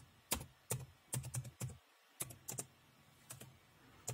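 Quick bursts of clicky keystrokes on a computer keyboard, typed in short groups with brief pauses while entering Windows 10 repair commands in a quiet room.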